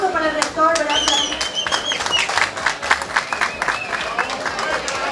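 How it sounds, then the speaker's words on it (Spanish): Audience at an event applauding, brisk crowd clapping with some cheering voices and babble mixed in, moderately loud and continuous, with a brief vocal tone near the start. "Un aplauso para el rector, Brea Frank."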